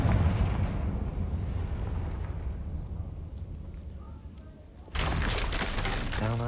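A Confringo fire-blast spell explodes in Hogwarts Legacy: a sudden loud burst and crackling shatter near the end, following quieter rumbling game ambience.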